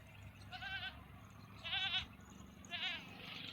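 Goats bleat at a farm, three separate wavering calls spaced about a second apart over a low outdoor rumble, moderately close but not loud.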